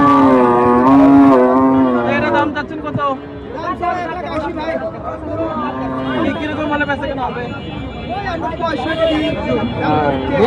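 A cow moos loudly near the start, amid a busy crowd of chattering voices and other animal calls at a cattle market in Dhaperhat, Bogura.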